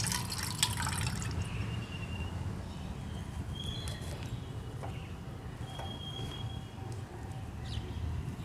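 Water pours steadily during a bicycle puja, a continuous rushing splash that lasts the whole stretch at moderate loudness, with no speech over it.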